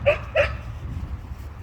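A dog barks twice in quick succession on a street in Sofia, Bulgaria, in winter, the short yaps fairly close over a low rumble of street noise.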